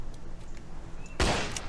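Gunfire in the zombie video game Zombie Island, one sudden loud shot or burst bursting in late after quiet game background noise.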